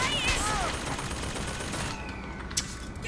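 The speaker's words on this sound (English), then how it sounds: "I can hear a machine gun somewhere." Rapid automatic gunfire in Bioshock Infinite, a dense continuous volley in the first two seconds that fades into a thinner rattle, with a sharp single crack near the end.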